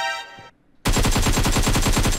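ASM Abacan rifle fire in PUBG Mobile: after a brief tonal game sound and a short pause, a loud, sustained burst of rapid automatic shots follows in a tight, steady rhythm close up, with no talking.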